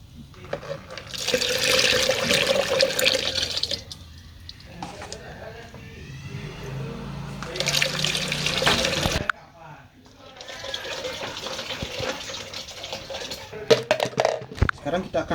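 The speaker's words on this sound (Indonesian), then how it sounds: "Sekarang kita akan tambahkan air." Water is poured into a liquid organic fertilizer mixture of fungi and yellow rice, filling a container in a few long rushing spells separated by brief pauses, with a person talking over it.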